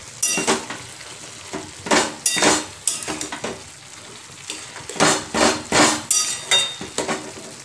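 Gourd greens cooked with poppy-seed paste simmer in a pan as the water reduces, with repeated bursts of a utensil scraping and stirring against the pan over a low, soft sizzle between strokes.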